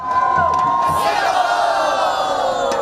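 A large crowd of Singaporeans cheers on national athletes, a loud, sustained roar of shouting and whooping voices that holds steady for the full few seconds.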